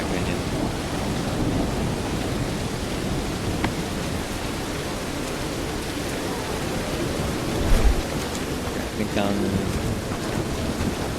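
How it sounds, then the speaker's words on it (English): Heavy pouring rain with rumbling thunder fills a stormy outdoor scene in the video game Bellwright, a dense continuous roar with a brief louder crack midway, while someone talks briefly over it. "the rain and the thunderstorms sound so amazing now"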